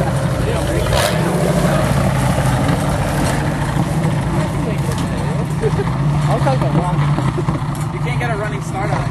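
An off-road vehicle engine under heavy throttle drones loud and continuous while driving downhill, with a voice talking over the steady roar.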